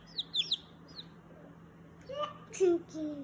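Two-day-old baby chicks give a few thin, high peeps, while a voice speaks softly nearby; the peeping is faint and brief, with low room hum beneath.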